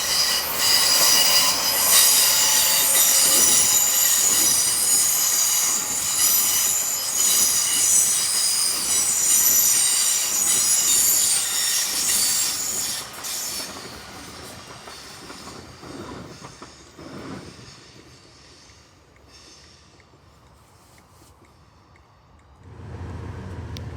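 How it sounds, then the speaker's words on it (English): A cross-country passenger train rumbles into Totnes on the main line loudly with squealing wheels and rail clatter, then fades and slows to a quieter hum before a low rumble returns near the end. "see a cross-country service arriving into Totnes on the main line"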